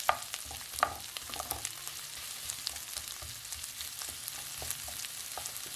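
Onions frying in a pan for Thai-style prawn fried rice make a soft, continuous sizzle, broken by quiet scrapes and light clicks from stirring.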